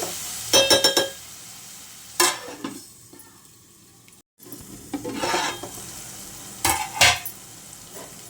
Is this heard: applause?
no